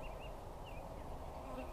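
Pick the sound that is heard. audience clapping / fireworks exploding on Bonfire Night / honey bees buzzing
honey bees buzzing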